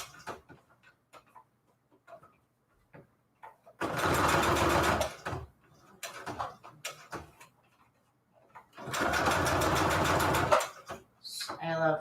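Sewing machine straight stitching through Christmas scrap paper, running in two steady whirring bursts of a couple of seconds each, with quiet clicks and handling between them.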